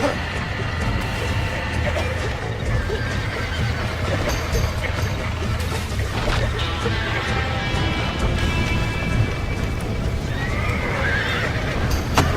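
Horses in the Red Dead Redemption video game neigh and whinny repeatedly over clip-clopping hooves, loud and close, with a continuous busy game soundscape behind them.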